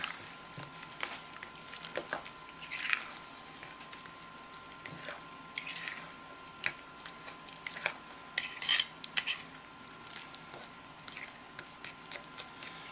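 Yeast cake dough being mixed in a bowl: quiet, irregular scraping and clinking of a utensil against the bowl, close and faint, with soft wet patting sounds and no speech.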